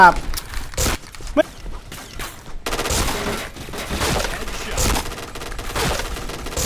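Kriss submachine gun fire in a shooter game, rapid bursts crackling throughout, tight clusters early then a sustained rattle, with a voice talking over the shooting.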